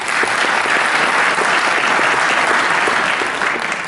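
Loud, sustained applause from a graduation ceremony audience, dense clapping filling the whole few seconds at an even level, with faint crowd murmur mixed in.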